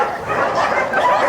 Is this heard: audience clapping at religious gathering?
no